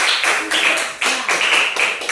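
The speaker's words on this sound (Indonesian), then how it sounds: "berikan tepuk tangan yang meriah untuk kelompok" A classroom of fifth-grade pupils clapping for a group, in short rhythmic bursts of unison claps repeating about every quarter second, close and fairly loud.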